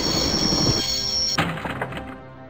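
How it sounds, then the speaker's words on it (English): A train in the video game Broken Sword: Shadow of the Templars rumbles with a high whine over it, then cuts off at a heavy metallic thunk, leaving fading rattles and low ringing. "I'd always wanted to stop the train, and now was my chance."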